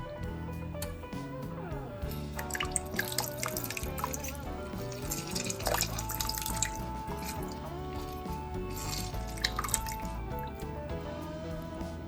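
Juice of one lemon drips into a pan of thickening sauce for chicken francese, heard as small irregular drips and liquid splashes under steady, prominent background music.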